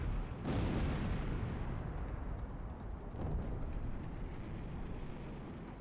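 Aircraft gunfire and explosions in the combat flight game Ace Combat X: a sharp blast early on, then a second burst about three seconds later, over a continuous loud roar and rumble, with no talk.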